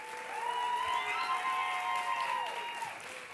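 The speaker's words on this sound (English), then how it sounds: "a round of applause for Congressman Bob Filner" An audience at a San Diego mayoral debate forum at UC San Diego applauds a candidate in a sustained, even wash of clapping, with a steady tonal hum sounding over it.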